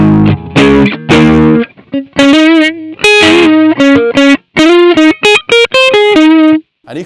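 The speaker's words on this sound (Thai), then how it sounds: "มีอะไรที่เป็นเสียงแตกก็ได้ เพราะเราอยากได้เสียงแตกเยอะๆ" Heavily distorted overdriven electric guitar playing chunky chords and then sustained single notes, loud and gritty, with short gaps between phrases.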